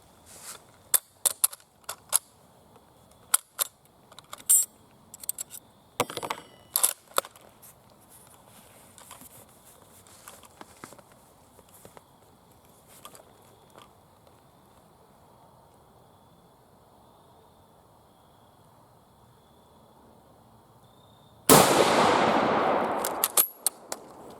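Five British P14 Enfield rifle shots fired at a 100-yard range, sharp cracks spread over about twenty seconds, followed by a loud sustained burst of noise near the end; no talk.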